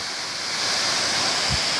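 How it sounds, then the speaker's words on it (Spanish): The Pinero waterfall, a horsetail-type cascade, roars as a steady, dense rush of falling water heard close and loud throughout, with a brief low thump near the end and no talking. "Cascada Pinero, un cola de caballo."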